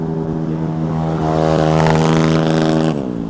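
A Suzuki Satria FU motorcycle engine hums with an even, steady tone near the microphone, briefly rising in pitch as it revs before settling back down.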